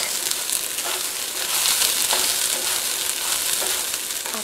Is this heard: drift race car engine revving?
no